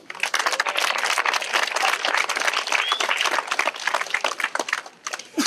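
Sustained audience applause honoring the winners of a 2018 diocesan cup sports tournament, dense and steady clapping that stays loud throughout with only brief dips.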